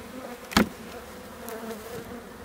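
Honeybees buzz around an open beehive full of honey frames, a faint steady hum with one bee passing close by in a brief louder burst, no voices.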